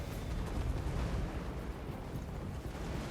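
A Total War: Warhammer 2 battle rages with a dense, continuous roar of massed gunfire and explosions, a thick low rumble of overlapping blasts with no distinct gaps and no talking.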